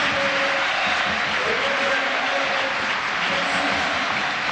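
A stadium crowd at Gerland applauds during a 1996-97 Olympique Lyonnais versus Olympique de Marseille league football match, a broad, steady roar of clapping with a commentator talking over it.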